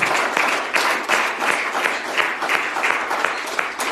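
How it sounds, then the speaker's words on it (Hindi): A church congregation at a Sunday service wedding blessing claps together, a dense, loud, continuous round of applause with slightly rhythmic swells. "यीशु के नाम पर ताली हो जाए"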